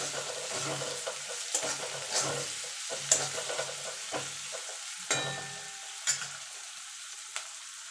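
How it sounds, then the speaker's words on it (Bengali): Onions sizzle steadily in a hot pan while a spatula scrapes and knocks against it every second or so. "পেঁয়াজটা একটুখানি ভাজা ভাজা হয়ে গেছে"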